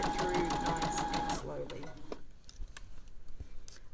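Sewing machine stitching a fabric scrunchie seam, a fast rhythmic mechanical chatter that stops partway, followed by quieter clicks and handling noises.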